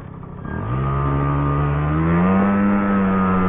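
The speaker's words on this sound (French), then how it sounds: "il est en train de monter en régime" Van engine on a first vehicle with about 50,000 km, starting low and climbing smoothly in revs after half a second, then holding a loud, steady mid-pitched drone, close and alone.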